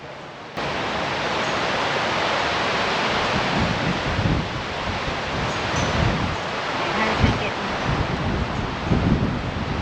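Strong wind blasts into the microphone in a front flower garden, a constant rushing roar with gusty buffeting surges throughout.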